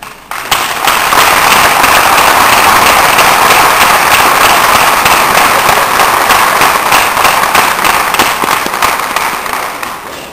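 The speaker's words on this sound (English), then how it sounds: "give yourself another round of applause" Inductees and guests at a National Society of Collegiate Scholars induction ceremony break into loud, dense clapping that runs steadily for about ten seconds.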